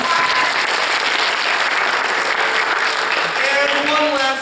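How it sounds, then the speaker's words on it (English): An audience at a youth Wizard of Oz musical held by a parks and recreation program claps in sustained, dense applause, loud and continuous before tapering off near the end. "Please give yourselves a round of applause."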